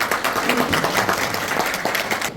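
Applause from the audience opening a CEO management forum, a busy spread of clapping hands that stays fairly steady and moderately loud from start to finish.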